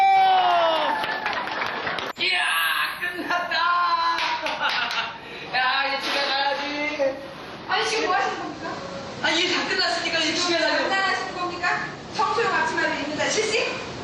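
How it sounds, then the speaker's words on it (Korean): A classroom group at a food-poisoning prevention session bursts into cheering and clapping on cue, with many voices shouting together at close range over a dense, lively crowd roar that runs throughout. "박수!"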